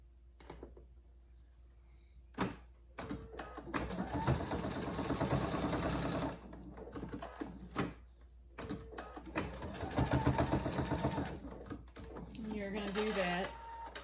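A sewing machine stitches folded fabric edges closed on a pillowcase dress, running in two sustained bursts of steady whirring with short pauses and handling clicks between.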